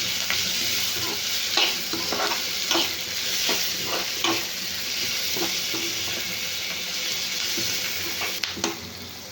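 Egg fried rice stir-fried in a pan with mint and coriander, a steady close sizzle broken by repeated scraping and tossing strokes of the spatula, with no talking.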